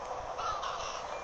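Crow cawing in the video game Little Kitty Big City, a steady hoarse call held close and fairly loud over a continuous game background, with no talk.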